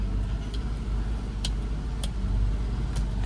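Daihatsu HiJet Jumbo kei truck engine fires up and settles into a steady low idle, a continuous rumble close by with a few faint clicks over it.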